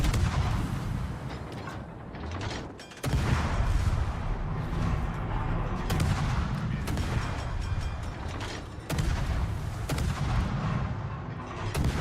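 Battleship naval artillery booms in World of Warships, heavy loud salvos striking roughly every three seconds over a constant roar of battle ambience.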